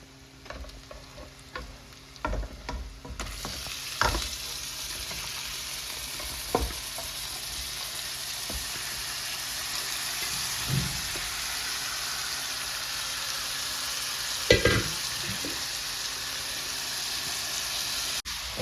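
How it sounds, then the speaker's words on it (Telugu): Chicken pieces drop one by one into a hot pan for methi chicken. A loud, steady sizzle follows, broken by sharp bursts and spatters, with occasional stirring clatter and no voices. "ఇప్పుడు ఒక్కొక్కటిగా చేసి మన చికెన్ పీసెస్ వేసేసుకుందాము."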